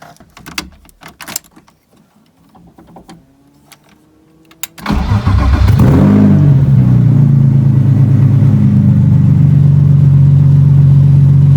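A BMW E36 with a full stainless steel exhaust line cranks and starts after a few quiet clicks, then settles into a loud, steady, droning idle close by.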